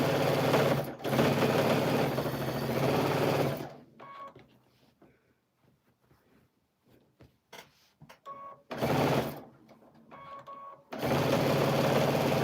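An old, worn-out sewing machine stitching a quilt runs in loud bursts, about four seconds, one second and two seconds long, with quiet gaps of small clicks and handling noises between them.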